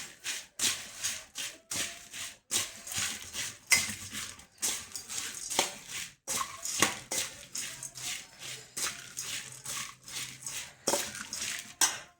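A spoon scrapes and clinks around a bowl, mixing bhel with sev in quick, irregular strokes, continuous mixing sounds close up with brief pauses.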